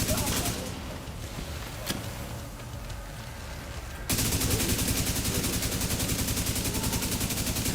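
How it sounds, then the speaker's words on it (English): Sustained automatic assault rifle fire in The Division 2, a rapid continuous burst that kicks in loudly midway after quieter game ambience and lasts to the end. "Now I'm going to switch out of it and try to maintain with our assault rifle now."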